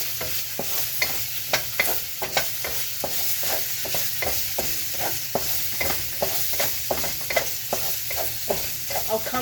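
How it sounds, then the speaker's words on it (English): Garlic frying in a pan for sweet and sour chicken, a steady close sizzle with regular scraping stirs of a utensil every half second or so, no voices. "I'm going to add some garlic, okay, I'm going to fry it."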